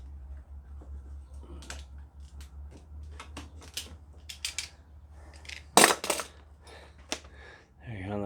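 Scissors or snips cut through a rubber fuel line during repair of a Poulan chainsaw, giving a string of crisp close snips and clicks over a low hum, with a louder sharp cut near the end.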